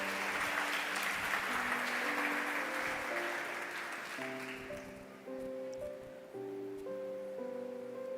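A church congregation claps together in sustained, dense applause during a sermon, with held keyboard or organ chords ringing beneath; the clapping is loud and steady, then eases slightly toward the end while the music continues.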